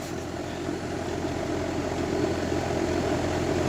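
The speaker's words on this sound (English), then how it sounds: "And I can hear the compressor trying to start." Outdoor central AC condenser unit with its fan running while the compressor, stuck on a locked rotor fault, hums and strains to start; a steady, loud mechanical drone holds throughout with no voices.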